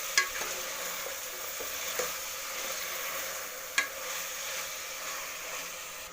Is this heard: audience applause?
no